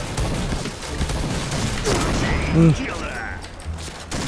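Rapid automatic gunfire and a sharp impact ring out in a first-person shooter game, loud and continuous, with a player's voice audible beneath the din.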